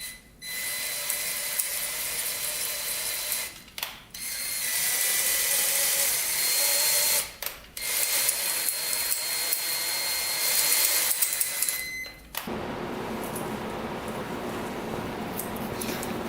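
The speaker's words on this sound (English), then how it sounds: "attach the hone to a drill, and then you go up and down" A power drill driving a cylinder hone whirs in long, steady bursts inside a Honda CR80 dirt bike engine cylinder, with brief pauses between them, a grinding mechanical drone that cuts off abruptly near the end.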